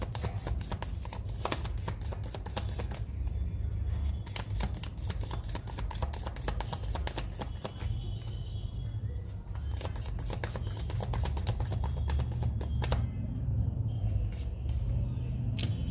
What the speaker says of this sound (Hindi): मैं एक कार्ड और निकालना चाहूंगी थ्री ऑफ सोर्ड्स को क्लियर करने के लिए